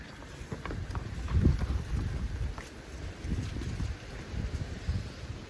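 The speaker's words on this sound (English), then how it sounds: "Can you hear the wind?" Wind gusts rustling steadily through the background of a children's farmyard story, a low continuous rush that swells and eases over several seconds with no voice over it.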